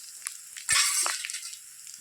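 Spice paste hitting hot oil with frying mixed vegetables, a sudden burst of loud sizzling that flares up and then settles into a softer hiss, with a few light utensil clicks before and after.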